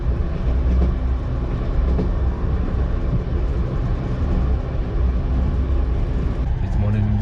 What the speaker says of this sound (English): I'm going to take the night train to Khiva and explore another old town of Uzbekistan.